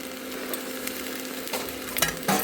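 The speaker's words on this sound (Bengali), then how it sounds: "ভালো করে কষতে থাকি" Garlic and ginger paste frying in a pan for potato curry, a steady close sizzle with scraping stirring strokes and a few louder clanks near the end, no voices.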